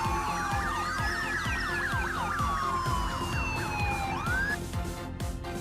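A firefighter motorcycle's siren wails loudly and close, with rapid yelping sweeps over a steady engine-like pulse, and then a rising tone near the end.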